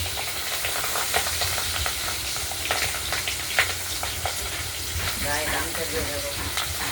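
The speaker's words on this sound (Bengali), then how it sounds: "আর খুব ছিটে আসছে তেল।" Pabda fish frying in oil, a dense steady sizzle with frequent spattering pops and light stirring throughout, close and fairly loud.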